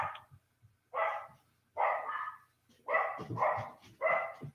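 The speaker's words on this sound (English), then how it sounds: "that'd be my dogs losing their minds over nothing." Several dogs barking in a run of loud bursts, about five close barks spaced roughly a second apart, with no talk over them.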